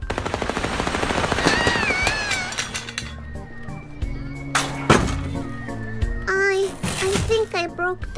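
Gunfire with real bullets in the video game Little Misfortune, sharp shots and a brief rattling burst mixed with a voice, game music and glassy clinks, fairly loud and busy.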